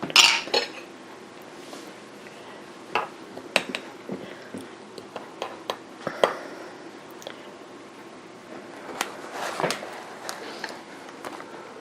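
A jar of pickled peppers is opened among scattered glassy clinks and small knocks of jar and lid, with a few sharper clicks standing out over a quiet room hush.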